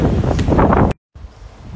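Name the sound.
wind blowing outdoors in a garden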